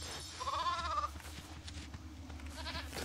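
A single wavering sheep bleat in LEGO Fortnite, clear and fairly close, followed by quieter game ambience and soft clicks.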